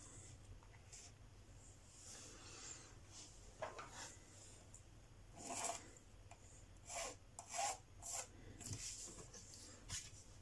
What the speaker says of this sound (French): tracer mon trait et couper ma cartonnette